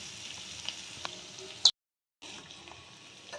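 Garlic cloves, eight to ten of them, frying in a pan for a cauliflower dish, giving a steady soft sizzle with a brief sharp crackle before a short silent gap, then the sizzle returns.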